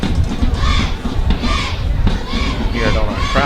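Football crowd cheering and chanting in rhythmic surges, picked up close on a crowd mic, loud and energetic with voices rising and falling in waves.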